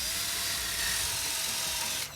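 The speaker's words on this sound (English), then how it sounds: "And the holes with a 5/8 diameter paddle bit" A power drill with a 5/8 inch paddle bit bores holes in wood for a Murphy bed build, a steady high whine running almost two seconds before cutting off.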